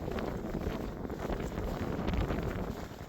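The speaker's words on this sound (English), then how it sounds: "Now, if this wind would stop trying to blow me into you" Steady wind blowing during a hike, buffeting the microphone as a continuous broadband rush with gusts, loud and close, with no talking.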